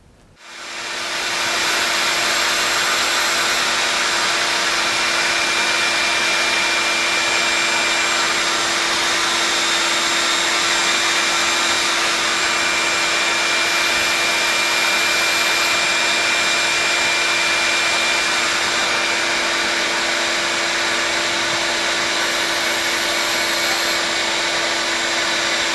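Abrasive wheel on a surface grinder being dressed, a steady loud broadband grinding whir holding on continuously after a quick start, with no pauses or talk.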